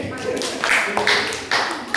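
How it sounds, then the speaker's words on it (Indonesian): Students in an Indonesian classroom give a short burst of clapping for a group, a few uneven, close handclaps mixed with voices talking over them. "Tepuk tangan untuk kelompoknya Firman ini"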